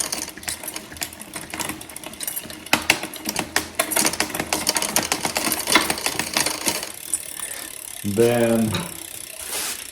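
A rear Shimano derailleur on a 2001 Trek 5200 road bike clicking through gears as it is adjusted: close rapid ratcheting clicks and freewheel ticking, with a brief spoken word near the end.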